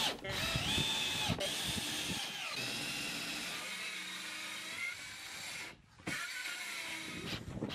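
Plywood lining being screwed onto a summerhouse shed base with a power drill, heard as whirring bursts of driving screws, near and fairly loud, with pauses and short gaps between screws.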